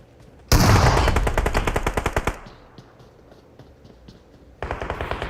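Automatic gunfire in PUBG Mobile rattles out in a loud, rapid burst, drops to a few quieter scattered shots, then starts again in another fast burst at the end.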